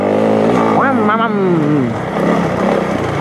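A Honda CRF 300 L motorcycle climbs a steep off-road slope, its engine close and continuous, revving up with a rising sweep and then holding under load.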